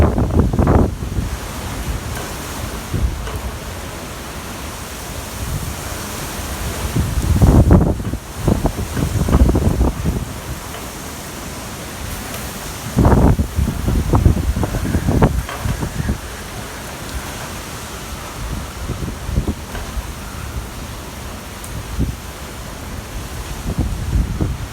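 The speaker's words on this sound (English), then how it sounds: "Got a strong gust coming right now." Hurricane Ida wind in Terrebonne Parish, a constant roaring buffet of gusts hitting the microphone, swelling into several heavier bursts over a broad rushing background.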